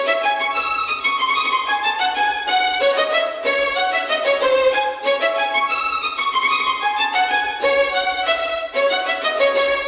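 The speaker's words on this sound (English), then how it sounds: "this violin melody is pretty cool, pretty fire" A bright, flowing violin melody plays continuously at full volume, notes moving quickly over a sustained, dense backing.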